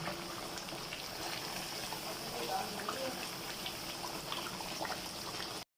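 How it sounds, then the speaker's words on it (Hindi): Water at a rolling boil in a pot for chicken biryani, giving a steady, close bubbling hiss that holds evenly from start to finish. "देखिए जैसा कि मैंने पानी बॉईल रख दिया है"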